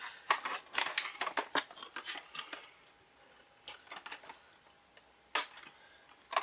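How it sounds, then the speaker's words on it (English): Scissors snipping plastic packaging ties on a Power Rangers Samurai toy spear set, a quick burst of sharp clicks and snips, then a pause and a few more isolated cuts, close and fairly quiet. "these ones you could just clip off with a pair of scissors"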